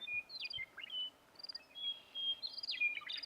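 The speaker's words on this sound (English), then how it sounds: "Red-winged blackbird out there." A red-winged blackbird calls outdoors in Hell's Canyon, giving faint, distant, thin whistled and buzzy notes in several short bursts over a steady hiss of insects.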